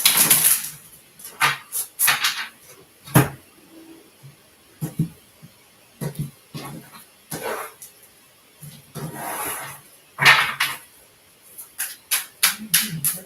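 Soft papery riffles and flicks come in quick irregular bursts, cards being shuffled close by with brief pauses between.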